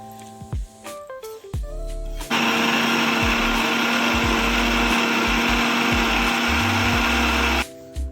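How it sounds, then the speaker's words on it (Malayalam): A mixer grinder jar whirs loudly and steadily for about five seconds, grinding roasted masala for a dried prawn curry, after short bursts of rattling jar and lid handling at the start. "നമുക്ക് മിക്സിയുടെ ജാറിലേക്ക് ഇട്ടിട്ട് നന്നായിട്ടൊന്ന് അരച്ചെടുക്കാം"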